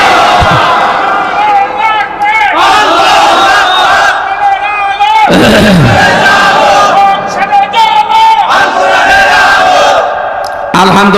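A large crowd roars a loud, sustained chant of "Allahu Akbar" in answer to a takbir call at a Bangla religious gathering, the massed voices swelling in repeated waves over about eleven seconds.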